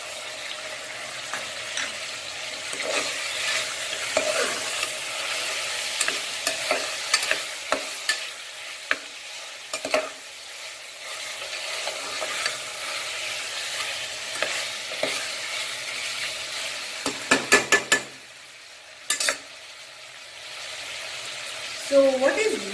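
Fried onions and black cardamom stirred into a pot of mutton yakhni pulao, giving a steady sizzling scrape with repeated spoon knocks against the pan, close and moderately loud, punctuated by a few sharper clatters near the end.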